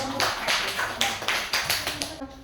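Classroom audience clapping after a group presentation at a teacher training session, a small group giving a dozen or so uneven, fairly close claps that taper off.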